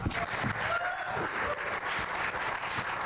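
Steady crowd applause at a ward aldermanic election runoff forum, dense and continuous with faint voices mixed in.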